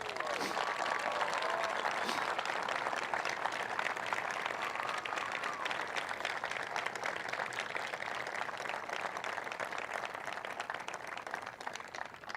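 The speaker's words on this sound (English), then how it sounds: "I don't want you to save your applause here." Crowd applauding at a Jackie Robinson statue unveiling at the Rose Bowl Stadium, a dense, steady wash of clapping that holds for the full stretch with a faint voice or two underneath before easing slightly at the end.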